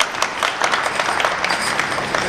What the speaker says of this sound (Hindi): बहुत जोरदार तालियां इनके लिए